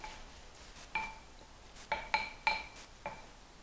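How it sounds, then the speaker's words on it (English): A spoon stirs apples coated in cinnamon and brown sugar in a dish, making a handful of sharp, bright clinks against the side, close and fairly quiet, spaced irregularly. "so just give them a real good stir around"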